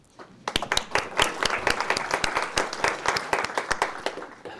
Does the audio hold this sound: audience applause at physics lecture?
yes